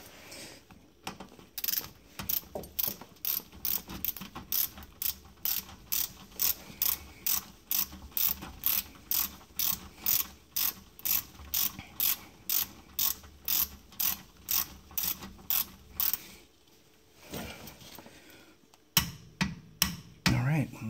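A ratchet tightens the differential plug on a Mercedes W123, a long run of rapid, even, close clicks with a short pause and a few final clicks at the end.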